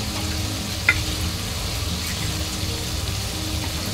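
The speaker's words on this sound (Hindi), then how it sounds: "चलिए हम लोग इसको अच्छा से भून लेते हैं मसाला, जब तक तेल ऊपर नहीं आ जाता है तब तक हम लोग भूनेंगे।" Masala for Punjabi-style rajma sizzles and fries in hot oil in a pan, a steady close crackling hiss with a faint stirring scrape and no talking.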